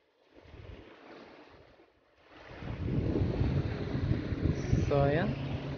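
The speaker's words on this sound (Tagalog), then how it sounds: "Napakalakas po ng hangin kaya po malamig." Strong wind at Waterton National Park, Canada, roars and buffets the microphone in a continuous rush, growing louder after a brief lull, with a voice briefly audible underneath.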